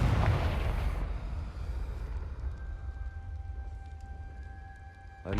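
A Confringo spell detonates in Hogwarts Legacy: one loud, broad fiery blast at the start that cuts off after about a second, leaving a rumbling tail and a faint steady tone.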